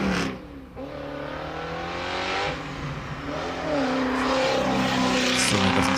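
A race car engine drones and revs at the Knox Mountain hill climb, a steady mid-distance roar with rising and falling pitch as it climbs, loud and continuous with no speech.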